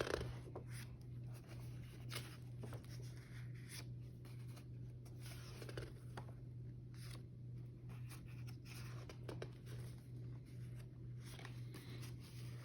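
Pages of a vintage Stollwerck non-sports trading card album from 1897-1909 are flicked through in a steady run of soft papery rustles and brief crisp flips over a constant low hum, with no talking.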